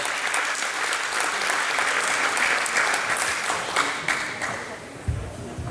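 A crowd at a fado music night gives warm, dense applause for the singer, steady clapping that thins out toward the end, with a voice briefly heard.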